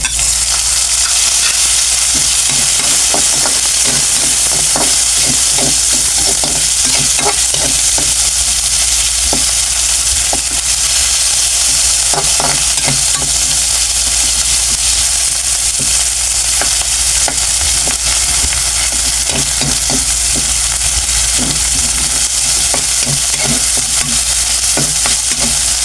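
Tomatoes stirred and sautéed in a frying pan for ginisang togue with tokwa, a steady loud sizzle broken by frequent scraping spatula strokes, continuing throughout with no talking.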